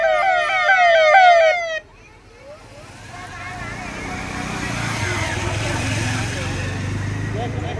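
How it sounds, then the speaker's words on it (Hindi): An ambulance siren wails in fast rising and falling sweeps near a crowded temple, then stops abruptly. Rumbling road traffic and general street noise follow and slowly swell. "आपने अपनी आंखों से देखा होगा कितनी सारी एम्बुलेंस जा रही हैं"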